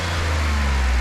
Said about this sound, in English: The sound from the engine is just refined enough that you could fool yourself into thinking it's a V6 for a hot moment